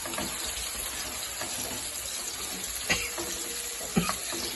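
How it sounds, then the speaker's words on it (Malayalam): Tamarind water poured into a pan while cooking a spicy okra dish, a steady running trickle of liquid throughout, with a couple of soft clinks near the end. "പുളിവെള്ളം ഉണ്ടല്ലോ, അത് ഇതിലേക്ക് ഒഴിക്കാം"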